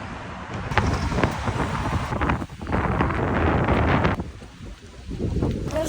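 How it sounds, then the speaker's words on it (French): Strong gusts buffet the microphone on a quayside, a loud roaring rumble that surges and dips in waves with a brief lull midway, no one speaking. "il y a un vent de zinzin"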